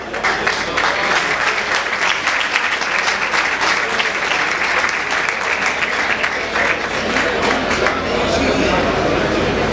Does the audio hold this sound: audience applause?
yes